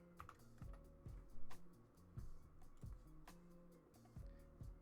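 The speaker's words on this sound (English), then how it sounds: "you're going to type in keyboard" Typing on a computer keyboard while setting up Rainbow Six settings: quick, uneven clusters of close, crisp key clicks, alone with some faint background tones.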